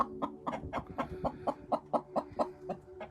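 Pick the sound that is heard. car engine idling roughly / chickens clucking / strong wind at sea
chickens clucking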